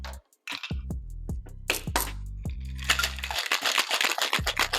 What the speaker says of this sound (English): Then you want to fill your shaker up with ice and shake for about 10 to 15 seconds.